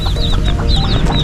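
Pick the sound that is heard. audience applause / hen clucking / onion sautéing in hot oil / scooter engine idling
hen clucking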